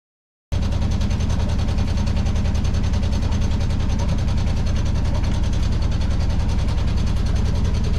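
Sailboat inboard engine running steadily at a constant idle, a loud, close, continuous low chugging throb with a rapid regular pulse that starts abruptly after a brief silence and holds unchanged throughout.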